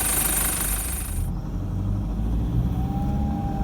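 A Toyota Prado 120 under way after injector replacement, its engine and road noise a loud, steady, close rumble, with a broad hiss that cuts off early and a faint rising tone near the end.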